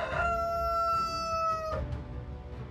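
A rooster crows once, a drawn-out, strained call that rises and then breaks off, heard fairly close against faint background noise.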